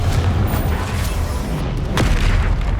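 The Confringo blast spell in the Hogwarts Legacy video game goes off as a loud, continuous booming roar, with a sharper burst near the end.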